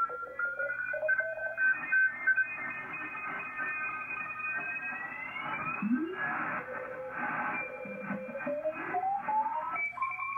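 Morse code CW tones on the 160 meter amateur radio band come through a receiver as keyed beeping tones over static, with several overlapping signals and drifting whistles.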